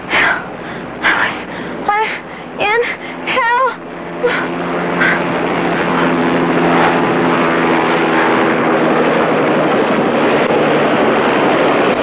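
A medevac helicopter in flight gives a loud, steady rotor and engine drone that builds and holds after a few seconds of people talking.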